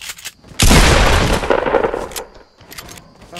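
A loud burst of gunfire from the video game Fortnite, close and sharp, then decaying into rumble with smaller shots and clicks, with no talking.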